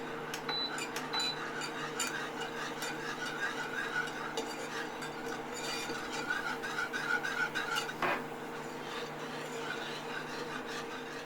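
Spoon or whisk scraping around a pan as milk is stirred into a basic white sauce for beef lasagne, giving steady rubbing and clinking close by with no voices.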